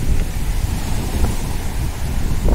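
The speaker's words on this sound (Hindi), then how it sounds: "देख लीजिए कितने लहर आ रहे हैं ना।" Sea waves surging ashore with steady wind buffeting the microphone, a continuous low rumbling wash with faint swells and no speech.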